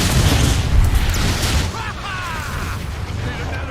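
A Metroplex firing in a video game: heavy, booming low-end blasts roll in during the first second and a half, then taper into lighter crackling and whooshing effects as the barrage fades.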